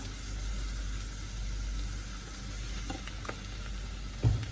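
Vegetables for a Kerala Onam sadya chattichor sizzle steadily in a hot pan, a constant close hiss with a few brief clicks and a stir clatter near the end, no voices.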